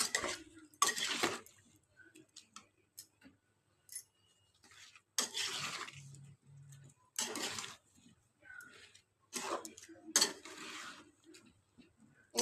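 Taro and prawns being stirred in a pan, producing bursts of metal utensil scraping and clatter against cookware, spaced with quieter gaps and occasional faint background sounds.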